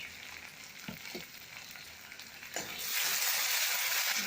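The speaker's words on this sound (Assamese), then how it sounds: "গেছটো অকণমান কমাই দিম আৰু বিলাহীখিনি অকণমান ভালকৈ ভাজি ল'ম" Tomatoes with turmeric fry in oil for an Assamese yellow lentil dish, a close, steady sizzle with a few soft stirring knocks that swells into a louder, brighter hiss near the end.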